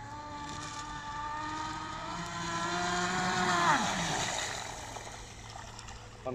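A 50 mph RC speed boat runs on water, its high electric whine holding steady, then swelling and sweeping upward as the boat passes closer before fading back, with a faint watery hiss underneath.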